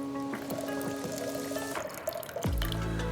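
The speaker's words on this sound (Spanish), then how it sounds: "vamos a colar el agua de nuestros 2 recipientes" Water from a container of beets is strained, made with hot water, giving a steady trickling pour that runs for a few seconds and ends in a louder, fuller splash as the flow finishes; no one speaks.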